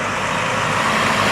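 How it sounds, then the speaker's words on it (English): A truck passing by close at hand gives a steady, loud broadband engine and road rumble that fills the whole short stretch with no break. "there's a truck passing by"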